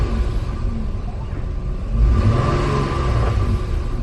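A used car bought out of state, previously showing a little blue smoke, has its engine revved under throttle: a steady low rumble that swells and holds louder from about the midpoint, close by with no talk.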